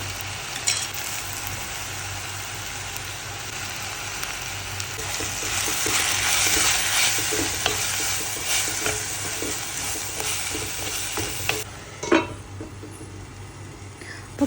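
Spinach for Kerala-style cheera thoran being stirred as it sautés in a pan: a steady, fairly close sizzle with scraping strokes of the spoon, louder in the middle, then a few sharp clacks against the pan near the end.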